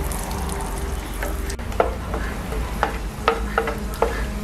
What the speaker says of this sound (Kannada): ಒಣ ದ್ರಾಕ್ಷಿ. ಇದು ಕೂಡ ಸ್ವಲ್ಪ ಫ್ರೈ ಆಗಲಿ.